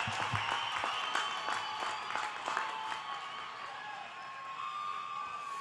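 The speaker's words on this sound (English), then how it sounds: "let's give these kids one more round of applause now" Audience applause with cheering and whoops at the Caprock High 2023 graduation ceremony, a steady wash of clapping from a large crowd held at an even level throughout.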